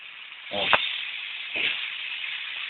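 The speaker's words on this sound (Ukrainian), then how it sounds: "Вода шумить, тече." Water rushing inside an Elexia gas boiler under repair, a steady soft hiss running throughout, briefly broken by two short bursts of a voice.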